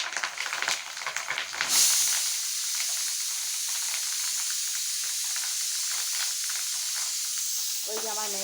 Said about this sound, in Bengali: এখন ভাজছি ডিম, মাছের ডিমগুলো।